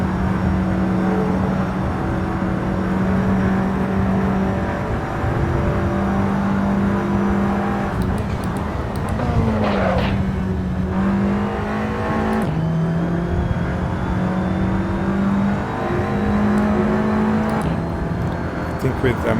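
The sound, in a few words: Audi TT race car engine in Assetto Corsa racing game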